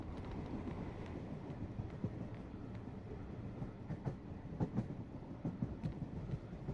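A train in the video game Blackwood Crossing rumbles along steadily, with a low rolling roar and occasional faint clicks and knocks, fairly quiet, with no voices.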